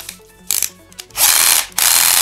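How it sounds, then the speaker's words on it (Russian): Ratchet clutch of a simple cordless screwdriver clicking in screwing mode, a few short bursts followed by two longer loud rattling runs of rapid clicks, close and alone. "Вот так вот трещотка срабатывает."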